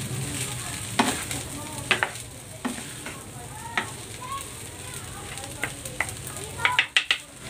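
Luncheon meat, scrambled eggs and spring onions are stir-fried with rice in a hot pan, giving a steady close sizzle broken by sharp scraping and clanking strokes of the spatula, with a burst of quick clatters near the end.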